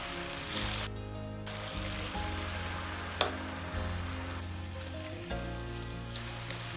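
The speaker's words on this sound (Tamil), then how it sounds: "இப்போ எண்ணெய் கஞ்சிச்சுங்க பொறிச்சு எடுத்துக்கலாம் கொஞ்சம் கொஞ்சமாக போட்டு எடுத்துக்கலாம்" Potato pieces sizzle and crackle steadily in hot oil, with a continuous close frying hiss and occasional louder pops and stirring sounds throughout.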